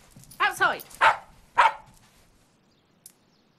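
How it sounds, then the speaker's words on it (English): A dog barks four times in quick succession close by, followed by a faint, short yip after a pause, in an otherwise quiet room. "Morwenna, get this dog and tie it up outside."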